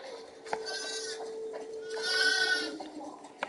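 Sheep bleat in The Last of Us Part II, several wavering calls over a steady background tone, with a sharp click near the start and one near the end.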